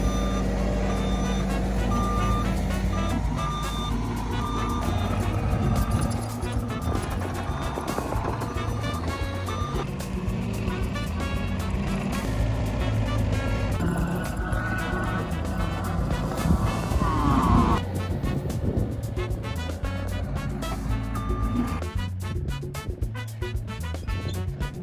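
Tractor fitted with hay forks maneuvering near a trailer of hay bales for goat bale grazing, its engine rumbling steadily while a reversing alarm beeps repeatedly and loudly throughout.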